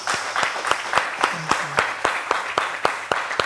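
Sparse, loose clapping from a small group, individual sharp claps spaced irregularly, fairly close, with a faint murmur underneath.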